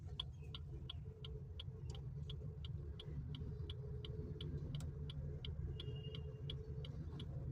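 A car pulls away after the clutch is released, its engine a steady low rumble close by, with a regular light ticking like an indicator running throughout.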